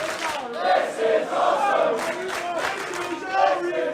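Wrestling crowd chanting at a Drew McIntyre versus Will Ospreay match, a loud arena full of voices rising and falling in rhythmic chant swells.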